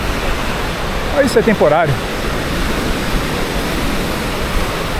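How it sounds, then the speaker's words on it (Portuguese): Wind sweeps steadily off the ocean at Jurerê beach in Florianópolis, a constant broad rushing hiss. A voice speaks briefly over it. "o vento trazendo essa umidade oceânica"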